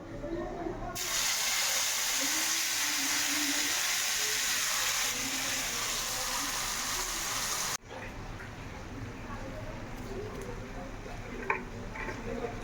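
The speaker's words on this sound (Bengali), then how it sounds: "তেল গরম হয়ে গেছে, আর মিশ্রণটি ঢেলে দিলাম।" A blended paste for a bhorta is poured into hot oil, setting off a loud, dense hiss that holds steady for several seconds, then drops to a softer, crackling sizzle.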